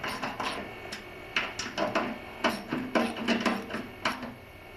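A 3/8 socket ratchet clicks in short rhythmic bursts while working on the drive of an MTD snowblower, close up over a steady background hum.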